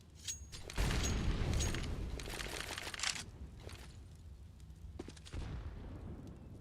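Grenade explosions in the Counter-Strike video game, a heavy boom followed by rumbling debris, then another blast a few seconds later amid softer scattered clatter.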